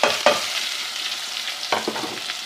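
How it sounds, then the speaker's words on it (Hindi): Onions hit hot oil with a sharp crackle, then settle into a steady, close sizzle, with a few stirring scrapes near the end, while cooking chana dal and bitter gourd curry. "प्याज को जो है वो हम ऑयल में डालते हैं,"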